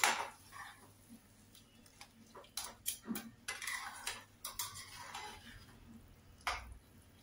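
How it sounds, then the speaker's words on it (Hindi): Brinjal being mashed and stirred in a pan for baingan bharta, giving irregular clinks, scrapes and taps of a utensil against the pan, with sharper knocks clustered through the middle and no talking. "बहुत अच्छे से मैश करना है और बहुत अच्छे से ही भूनना है"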